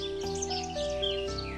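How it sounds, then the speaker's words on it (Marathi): Birds chirp in the morning, several high twittering calls over a sustained tonal music bed, moderately loud and without talk. "पक्ष्यांच्या किलबिलाटाने दुर्वाला जाग आली"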